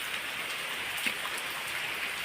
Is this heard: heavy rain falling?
yes